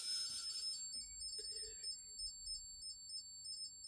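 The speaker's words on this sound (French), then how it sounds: "Oui, j'entends une sonnerie." A high electronic ringing tone chirps in short, regular repeating pulses, faint and thin over a quiet background with no talk.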